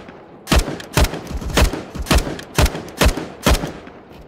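Decoy grenade in Counter-Strike: Global Offensive imitating gunfire, a loud burst of about eight sharp shots at steady half-second intervals, close and without voices.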